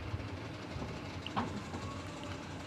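A straw-fodder cutting machine at a large cattle dairy farm runs with a steady mechanical rumble and faint rhythmic clatter, moderately distant, with no one speaking.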